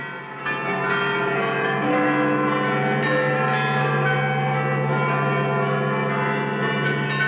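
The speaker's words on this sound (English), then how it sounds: "Now the bells rang out a song of thanksgiving" Church bells in Britain peal continuously in a dense, overlapping ring, loud and steady throughout with no voices, from a 1944 wartime film recording.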